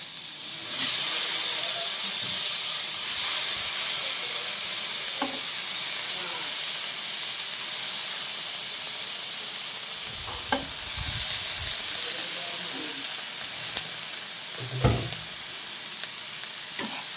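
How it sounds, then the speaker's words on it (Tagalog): Shrimp sizzle steadily in a hot pan, a constant loud frying hiss with a few faint clinks and scrapes of stirring scattered through. "At saka natin ilalagay itong ating hipon."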